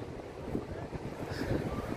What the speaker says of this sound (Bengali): সমুদ্রের যে বাতাস আর মানে এই যে শব্দটা